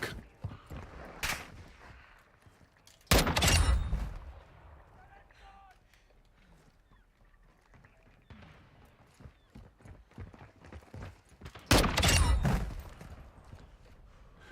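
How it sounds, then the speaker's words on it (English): Gunfire in the video game Call of Duty Warzone 2.0 DMZ: loud bursts of shots at the start and two heavy volleys later, separated by quieter stretches of scattered distant gunfire and game ambience. "there's a lot of gunfire going on here"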